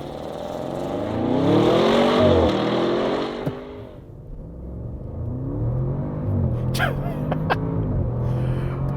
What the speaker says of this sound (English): I'm just going to pound the throttle, and we'll just see what happens